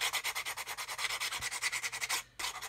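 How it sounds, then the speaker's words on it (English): Edges of model aircraft parts being sanded with a sanding stick: rapid, steady back-and-forth rasping strokes, close and loud, about a dozen in a row with a brief pause near the end, no voices. "just basically going around and sanding all the edges so we get a nice glue joint"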